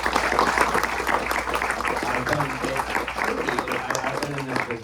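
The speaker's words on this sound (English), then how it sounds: "a round of applause for Nick and his work." Audience applause after a filmmakers' Q&A screening at a cinema, a dense steady wash of clapping sustained throughout, fairly close and even in level.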